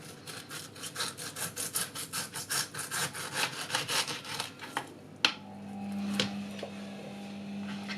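A knife saws through a pineapple, cutting away a section for pineapple pachadi, with close, rhythmic rasping strokes for about five seconds, then a sharp knock and a quieter scraping with a low steady hum.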